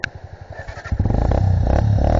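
A motorcycle engine near at hand, chugging in slow rhythmic pulses before it rises into a louder, steady running rumble.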